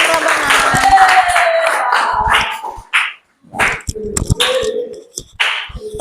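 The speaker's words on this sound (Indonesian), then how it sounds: "Tepuk tangan kelompok" A classroom group claps briefly, with sharp, uneven hand claps mixed with voices and chatter nearby, fading into a short pause before scattered claps and talk resume.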